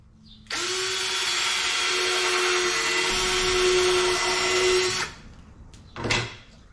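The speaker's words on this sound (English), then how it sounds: "So I'm gonna screw in the one on the end first." A power drill whirs steadily for several seconds as it drives a screw into wooden cabinet boards, then stops, followed by a short second burst.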